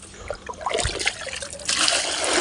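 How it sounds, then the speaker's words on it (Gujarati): Water trickles and splashes steadily as a container is filled in a village setting, a soft irregular dribble that grows into a fuller, continuous rush near the end, close by with no speech. "મારે અહીંયા પાણી ભરવાનું છે પાણી ભરે રાખો"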